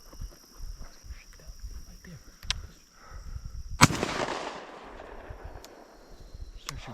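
A sharp, loud shotgun blast during a dove hunt rings out once and echoes away, with a fainter pop earlier, set against outdoor ambience and people talking nearby.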